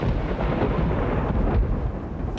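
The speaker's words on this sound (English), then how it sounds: "Every time I hear the thunder crash, I think," Thunder crashes overhead in an electrical storm in the French Alps, a loud, dense, continuous rumble filling the whole moment.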